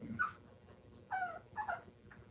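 High-pitched whining cries from a dog come in three short bursts, close by and fairly soft, with quiet gaps between them.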